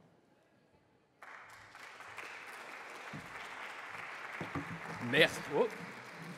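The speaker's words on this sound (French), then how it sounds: "Merci tout le monde pour vos applaudissements." Audience at a round table discussion breaks into applause after a brief quiet moment, with steady clapping from a large crowd filling the room and a single voice briefly speaking over it near the end.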